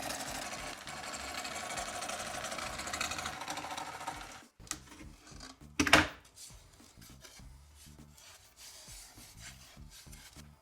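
A jigsaw cuts through plastic at a slowed-down speed while building a router table, making a steady rasping, buzzing rub that continues for several seconds before changing to quieter, uneven scraping with one sharp louder burst.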